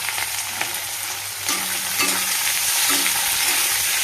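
Chopped onions frying in a pan at home while preparing restaurant-style chana masala, a steady close sizzle with occasional stirring scrapes and clinks and no talk.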